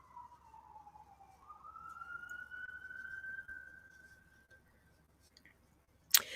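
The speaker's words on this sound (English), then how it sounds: "Sirens." Police siren passing outdoors, a single wailing tone that rises and then holds steady, moderately distant and fading away, followed by a brief sharp click near the end, with no talk.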